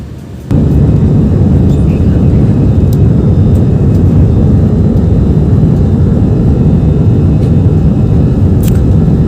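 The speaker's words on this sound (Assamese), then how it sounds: "এতিয়া বিমানটো ওপৰত যাব" A loud aircraft engine roar bursts in after a brief quiet moment as a passenger plane takes off and climbs, then holds as a steady, powerful rumble with no voices.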